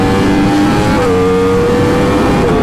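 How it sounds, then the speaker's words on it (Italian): A 2023 Yamaha YZF R1 motorcycle with a remapped engine is ridden off on the road. Its engine is loud and close, with a snarling tone that climbs steadily. "Intanto me la vado a provare sta moto, va."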